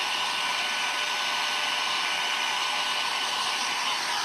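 A hair dryer drying glue on a rustic spindle plant stand, a steady, loud, close whooshing blow that runs unchanged throughout with no talking.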